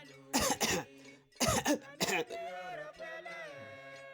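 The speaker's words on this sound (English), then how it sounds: "In English, that is called coughing." A few sharp coughs in two quick clusters, close up, followed by a low voiced hum that trails off.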